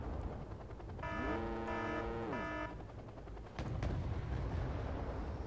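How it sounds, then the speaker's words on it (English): A Thunderbird missile launcher fires in Wargame Red Dragon: a rising whine from a missile launch sweeps upward over a steady rumble, then a thud and continued low battle noise. "Thunderbird firing its missiles off"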